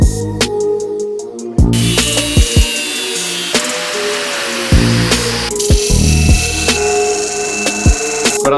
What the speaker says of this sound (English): All I'm going to do now is just cut the tip of the screwdriver off